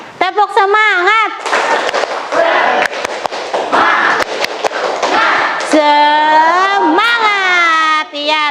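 A classroom group performs a rhythmic spirit clap. Bursts of loud, sharp, fast claps come from many hands at once, with group shouting and chanting before and after the clapping.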